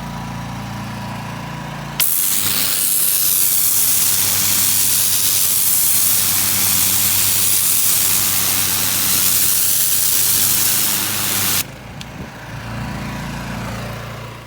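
A pressure washer blasts oil and grease off pavement in one loud, steady, close hiss lasting about ten seconds, starting and stopping abruptly, with a low engine drone underneath before and after.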